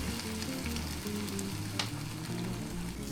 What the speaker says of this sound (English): now put in your mega slices of French toast and hear that sizzle